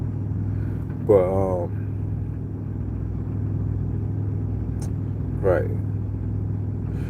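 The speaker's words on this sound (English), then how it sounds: "That's my APU, which is about to cut off in a second." A truck's auxiliary power unit (APU) runs with a steady low engine hum droning throughout, with a couple of brief voice sounds over it.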